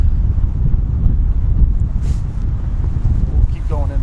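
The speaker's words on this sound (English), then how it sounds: "That's why it's so darn windy right now." Strong wind roars across the microphone in a Montana forest, a dense low rumble that stays steady and loud throughout, with a faint bird-like call near the end.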